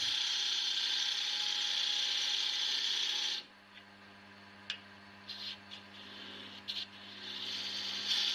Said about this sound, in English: use the relief tool to form the recess in the bottom